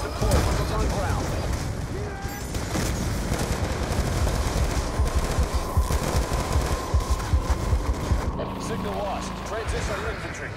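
Sustained automatic gunfire rattles in Call of Duty Black Ops 2 during a strike mission: loud, dense rapid bursts of machine-gun fire pour out almost without a break, with radio-style voices underneath.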